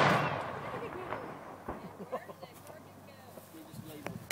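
A 37mm M3 field gun fires once with a loud, deep blast that rolls off into a long fading echo, followed by scattered clicks and handling noises while people talk.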